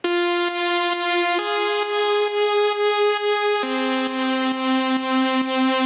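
Sustained, buzzy synthesized vocal tones stepping between three pitches, each held for over a second with faint rhythmic pulsing, no talking.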